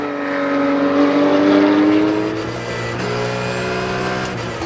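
Porsche race cars, numbers 15 and 28, racing at the Paul Ricard circuit, engines loud and close with a rising, then steady high-revving drone that holds through the whole stretch.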